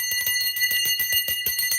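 Hand bells jingled rapidly at close range, a bright ringing shimmer with fast repeated strikes roughly every quarter second and no talking.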